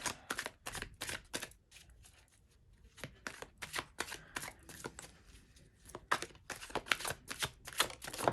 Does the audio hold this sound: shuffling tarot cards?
yes